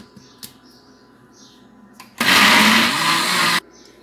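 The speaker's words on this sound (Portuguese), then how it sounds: "Então, agora nós vamos bater bem essa massa." Electric mixer beating pineapple cake batter in one loud, steady whir lasting just over a second, with quiet handling clinks before and after.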